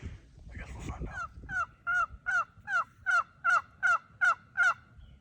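Wild turkeys gobbling in a Wisconsin field during spring hunting season, a clear run of about ten evenly spaced gobbles at moderate distance, with earlier rustling and faint stirring nearby.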